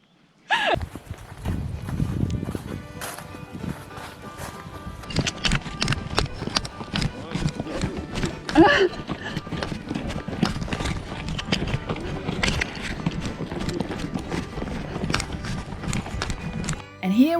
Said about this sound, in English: 2 riders and their horses, in the middle of nowhere, one with nature